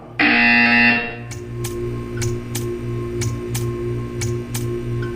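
A loud, steady electronic buzzer in Portal 2 sounds for about a second, followed by a low hum with regular sharp ticking clicks.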